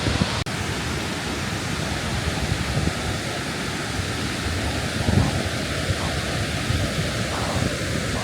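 Waterfall beside an old fjord, a broad steady rushing roar heard from a moderate distance with gusts of wind on the microphone, continuous and unbroken with no talking.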